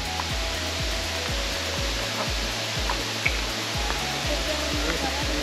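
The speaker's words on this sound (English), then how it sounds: "the waterfall is finally here." A waterfall in the forest near Rishikesh pours with a steady, dense rushing hiss, continuous and fairly close, with a faint regular low thumping underneath.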